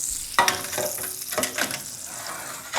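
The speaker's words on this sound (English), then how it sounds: "Oh, you can hear that sizzle." Hot butter sizzles and crackles in a hot pan, with a few sharp pops and stirring scrapes, fairly quiet and close.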